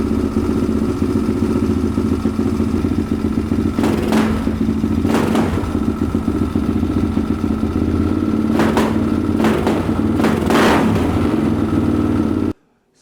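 A Yamaha Raptor ATV engine with the choke on runs at a steady, loud, rough idle, with occasional clattering bursts. It cuts off abruptly just before the end.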